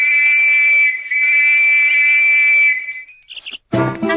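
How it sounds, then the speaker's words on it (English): A shrill whistle blown in one long, steady blast lasting nearly three seconds, then a few short chirps, followed by a brief burst of noise. "All you have to do is blow this whistle"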